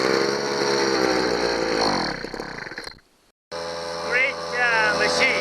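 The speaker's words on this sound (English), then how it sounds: "Leaf blower, leaf blower." A Sears Craftsman 32cc gas leaf blower runs loud and close, its two-stroke engine droning steadily, cutting out briefly, then roaring back as someone talks over it.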